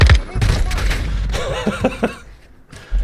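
Rapid bursts of SMG fire from the 2022 video game Call of Duty MWII crackle in quick, uneven volleys, loud and close, with a brief lull near the end before another shot, mixed with game sounds and a voice.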